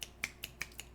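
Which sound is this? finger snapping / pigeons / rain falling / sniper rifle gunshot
finger snapping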